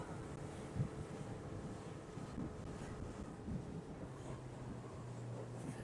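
A tour boat swings hard through a sharp turn on a mangrove river in Kilim Geoforest Park, Langkawi, its steady engine drone and water wash rumbling continuously beneath heavy wind buffeting on the microphone.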